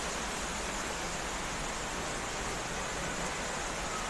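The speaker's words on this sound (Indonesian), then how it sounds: "Karena cuaca hujan" Steady rain falling outdoors on the way to the twin waterfall (Terjun Kembar) at the foot of Mount Raung, a dense, even hiss that fills the whole stretch with no voices over it.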